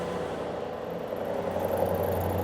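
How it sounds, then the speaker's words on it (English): Mercedes-AMG GT63 biturbo V8 rumbles at idle, a loud, close, low engine drone that swells a little toward the end, with no speech over it. "You can hear the V8 AMG rumble, quite a good sound."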